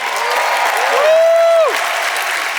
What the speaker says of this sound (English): There was so much cheering